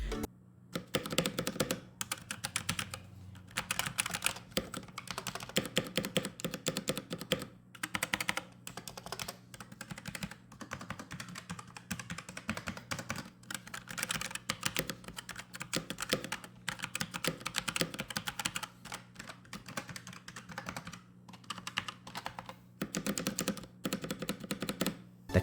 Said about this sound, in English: It's not silent, but it's much quieter than a blue switch keyboard.